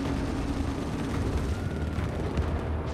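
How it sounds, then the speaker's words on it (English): Dense, continuous battlefield din from the video game The Forever Winter, with a rumbling wash of explosions and gunfire-like crackle filling the whole stretch at steady loudness, no talk over it. "Holy shit, a lot of explosions."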